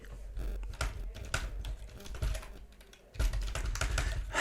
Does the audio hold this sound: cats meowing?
no